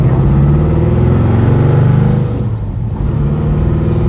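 A 1964 Plymouth Fury Sport with a 4-speed driving down a street, its engine a loud, steady, close drone from the cabin, easing slightly partway through before settling back.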